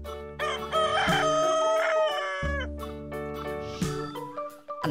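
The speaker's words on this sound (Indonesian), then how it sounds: "ada ayam jantan" A rooster crows loudly several times, long drawn-out calls following one another closely, with no one talking.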